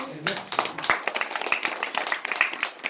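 Delegates at a national delegates' convention of a seniors' union clap in approval, a short burst of dense hand claps rising over a murmur of voices, fairly close and steady for a few seconds.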